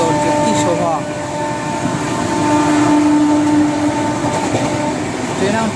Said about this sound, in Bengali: পার্টি চেঞ্জের কি আওয়াজ